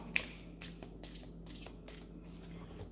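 Soft riffling of playing cards being shuffled, repeated in quick bursts about every half second, close and quiet over a low steady hum.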